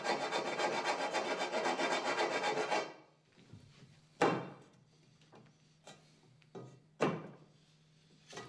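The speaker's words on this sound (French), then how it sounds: "Limez les bavures où c'est nécessaire" A metal file rasps steadily against metal burrs in a quick continuous run for about three seconds, followed by quieter scattered scrapes and a few sharp knocks.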